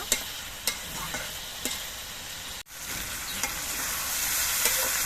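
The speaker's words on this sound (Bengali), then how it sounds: "জালটা বাড়িয়ে নিয়ে আমি কিছুক্ষণ সবজিগুলোকে ভেজে নেব" Vegetables frying over high heat in a pan, giving a steady broadband sizzle with a few sharp spatters and a brief dropout midway, close and moderately loud, with no voices.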